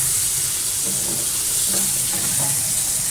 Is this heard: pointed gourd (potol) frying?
yes